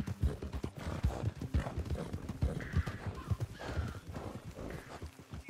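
Horse hooves clip-clop steadily in Red Dead Redemption 2 as an unsaddled temporary horse walks, with an occasional neigh, close and fairly loud throughout.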